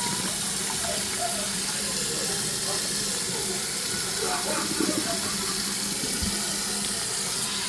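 Water running and splashing out of a pot as rice is rinsed of starch, a steady close hissing pour, with some talking in the background.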